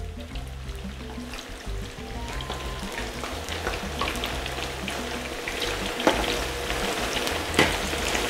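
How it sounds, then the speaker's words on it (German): Potatoes frying in a thick, spicy masala sauce are stirred, giving a steady, close sizzle and bubbling with scraping stir strokes and a couple of sharper clinks near the end. "Dann werde ich einmal umrühren."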